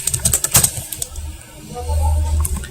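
Computer keyboard keys clatter in a quick burst of taps as shortcuts are pressed, followed by a low rumbling hum; close and fairly loud.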